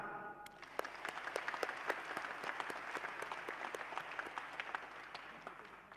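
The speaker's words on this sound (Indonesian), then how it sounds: "Tepuk tangan itu tanda bahagia." A crowd applauds steadily, many hands clapping at a moderate distance, the sound even and sustained throughout with no voices on top.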